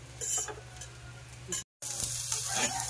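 Fried rice with egg sautéing in a pan, a close sizzle and stirring clatter that cuts out for a moment and then returns stronger.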